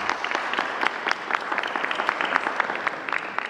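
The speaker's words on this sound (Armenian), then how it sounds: "ծափարենք բալիկներին" An audience claps for children at a New Year event, a steady patter of many hands applauding together, moderately loud and unbroken for several seconds.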